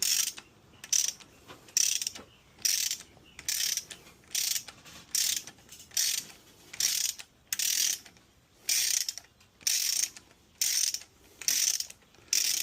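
A ratchet tightens cylinder head bolts on a 2007 Ford Mustang 4.0 engine, with about a dozen repeated bursts of crisp, rapid clicking strokes at a steady rhythm, close and clear, with no talk.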